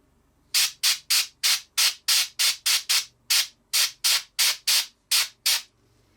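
Short bursts of spray paint hiss onto a miniature figure, about fifteen quick even puffs in a steady rhythm, close and crisp against near silence.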